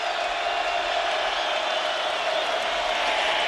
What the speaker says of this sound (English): Here comes the crowd noise again.